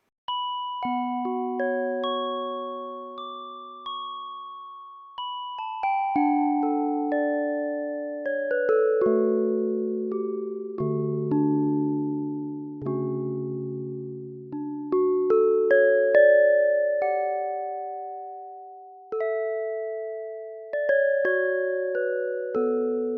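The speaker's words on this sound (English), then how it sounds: "So your nice pure little bell sound there." A sampled bell plays a slow melody of clear ringing notes, each with a bright strike and fading decay, some overlapping into chords.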